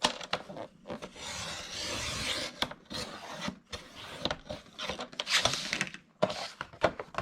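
A craft piece being trimmed to size on a trimmer gives off a run of scraping, rasping strokes of uneven length, close and moderately loud, with short pauses between cuts.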